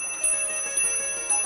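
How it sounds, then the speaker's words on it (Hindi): Several small bells ring out in a steady, repeating ton-ton pattern, bright and sustained with a clear chime, struck about every half second, fairly loud with no voices over them. "सोई सारी घंटियां टन टन टन टन बजने लग गई"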